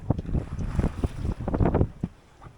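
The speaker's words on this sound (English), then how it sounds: "some wind has happened" Wind buffeting a microphone aboard a sailboat under sail, heavy gusty rumbles surging and fading in uneven bursts, close and loud, with no voices.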